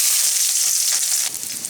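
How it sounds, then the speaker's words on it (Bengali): Garlic cloves hit hot mustard oil seasoned with black cumin, erupting in a loud, dense, close sizzle that eases slightly near the end. "আর দিয়ে দিচ্ছি কিছু রসুনের কোয়া।"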